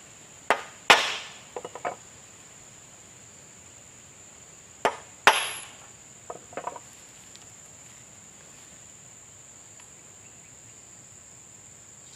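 Concrete nail hammered to mount a sickle blade for oil palm harvesting: two bursts of sharp metallic strikes, a few quick blows each, then quieter taps, with a steady insect whine in the background.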